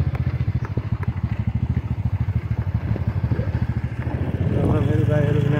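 A motorcycle rides an off-road hill track in Nepal on the way toward Cement Khola. Its engine pulses in a rapid, rough thump close by, then swells louder as it revs near the end.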